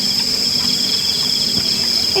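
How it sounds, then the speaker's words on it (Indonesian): A frog calling at night near a garden path in Ciheulang, Ciparay, heard as a loud, continuous high trilling chorus that stays steady from start to end, close by and alone. "Ini asli ada katak guys."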